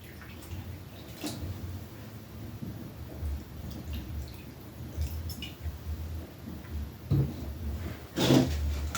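Water is poured by hand into small holes drilled in concrete, giving wet gurgling, dripping and splashing sounds, close and uneven, with a louder slosh near the end.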